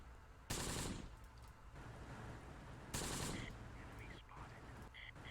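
Mortar barrage in the Close Combat: The Bloody First video game: two sharp, heavy blasts about two and a half seconds apart, each trailing into rumble, with faint chirpy game sounds between them at a low overall level.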